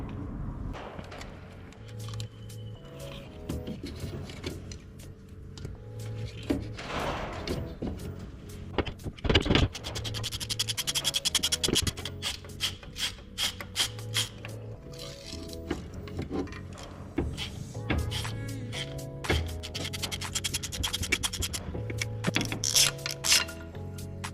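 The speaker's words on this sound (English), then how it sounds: "Just going to take the rest of these spark plugs out now" A ratchet works loose the spark plugs on a Daihatsu Mira turbo engine, giving a steady run of close, dense clicking and metallic ticks over about twenty seconds with no talking.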